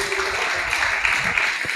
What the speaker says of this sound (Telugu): చేతులుంటే చప్పట్లు కొట్టు.